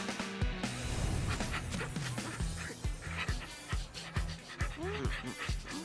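A cartoon dog barks repeatedly in short bursts amid busy, noisy background sound, with yelps and whimpers mixed in.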